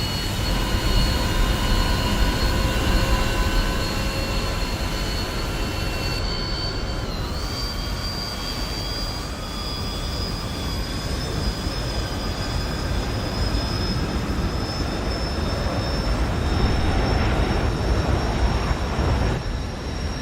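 A jet at full afterburner in the War Thunder video game gives a steady, loud, broad roar with a faint rising whine on top, unbroken for about twenty seconds during the takeoff run.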